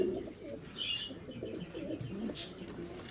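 Soft, low coos of Hünkari pigeons murmur continuously from nearby birds, with a few faint higher chirps mixed in.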